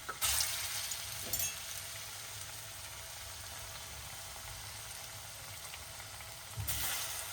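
Food for a Jamaican breakfast sizzles steadily in a hot pot, a constant frying hiss with a couple of sharper spatters at the start and end, no talk.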